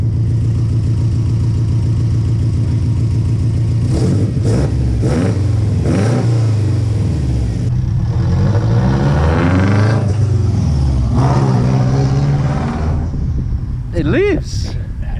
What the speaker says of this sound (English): how mad does that turbo spool sound?